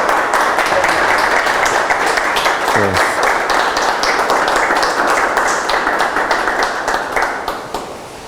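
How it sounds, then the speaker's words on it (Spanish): A conference audience gives warm applause for a speaker on Durango's last independence battle, many hands clapping steadily and fairly close, tapering off toward the end. "le damos un fuerte aplauso"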